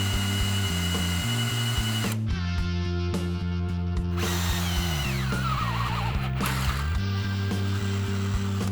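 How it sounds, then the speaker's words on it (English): A power drill bores a 3/8 hole while a rear bumper is fitted to a third-generation Toyota 4Runner, whining loudly and close, with its pitch shifting under load and a few short pauses between bursts. "We'll drill this out to a 3/8 hole."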